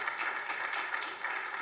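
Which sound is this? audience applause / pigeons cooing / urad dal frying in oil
audience applause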